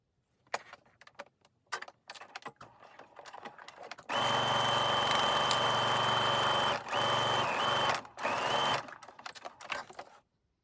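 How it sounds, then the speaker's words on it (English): A sewing machine runs a 3/8 inch seam with a backstitch at each end. After scattered handling noises, a close, loud, continuous whir sounds for about five seconds, broken by one brief pause and a few short stops. "now I'm going to sew along this edge using a 3/8 inch or a 1 centimeter seam allowance"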